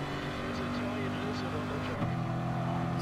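A loud, steady racing car engine in a video game drones at high revs, shifting pitch once partway through, with someone talking over it.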